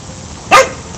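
One loud, sharp bark from a dog in a cemetery at night, close by and alone against a faint background hush.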